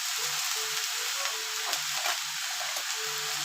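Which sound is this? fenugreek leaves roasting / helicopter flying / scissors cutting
fenugreek leaves roasting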